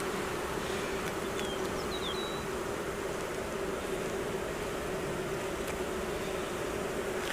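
Honey bees swarm around an open frame lifted above a backyard hive, a dense continuous buzz close to the microphone with a few individual bees whining past.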